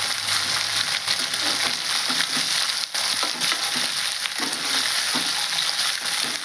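Cluster beans frying in hot oil, a steady loud sizzle with occasional stirring scrapes in the pan, close and continuous with no talking.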